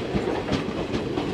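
Goods train rolling past at Khammam railway station, a close, steady rumble with rhythmic wheel clatter over the rails.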